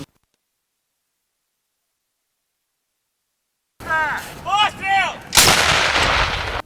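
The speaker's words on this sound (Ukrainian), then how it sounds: "працює з протитанковою гарматою МТ-12 Рапіра, яку вони називають Квітка" An MT-12 Rapira anti-tank gun fires during military training in northern Zhytomyr region. After a long silence, tonal whistling sounds precede a single loud, sharp blast whose broad roar lingers and fades slowly.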